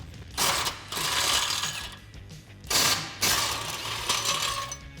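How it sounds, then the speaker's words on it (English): Ratchet clicking a 21mm socket to back out tow hook bolts on a Jeep Wrangler JL, two long bursts of rapid close metallic ratcheting separated by brief pauses. "So I'm going to be using a 21mm socket to take off the front brackets as well as the tow hook here."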